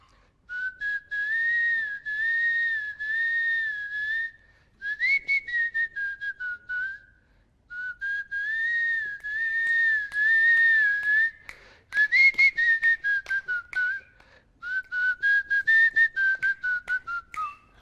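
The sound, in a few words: person whistling a song from the film Power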